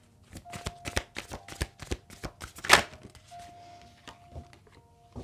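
Oracle cards being shuffled by hand, a series of crisp riffling snaps and soft slaps in an irregular rhythm, close and fairly loud, with a brief brighter flick midway.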